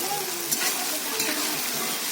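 Vegetables fry in a pan with a dense, steady sizzle close by, faint scraping as they are stirred.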